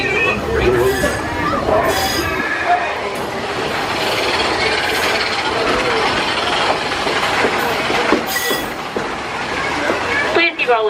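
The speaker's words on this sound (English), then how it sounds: "keep your eyes peeled for the runaway mine trains of Big Thunder Mountain Railroad" Walt Disney World Railroad steam train rolling along the track, with continuous rumbling, rhythmic wheel clatter and occasional bursts of hissing or squealing, heard from aboard the train as a voice talks over it.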